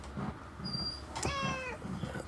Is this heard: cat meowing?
yes